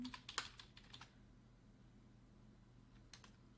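Keys clatter on a computer keyboard in a short burst of quick taps, then pause over a low fan hum before a couple more keystrokes follow, faint and close.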